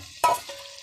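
Boiled, softened mung beans splash into a hot sautéing pan in one brief loud pour, followed by a faint sizzle that quickly settles.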